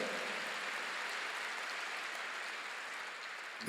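A church congregation claps in steady, hissing applause, soft and somewhat distant, that carries evenly throughout with no voices on top.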